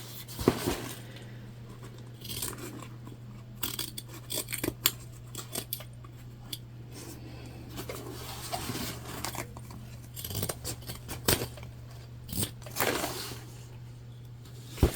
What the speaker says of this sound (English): we're just going to go ahead and clip away any fabric inconsistencies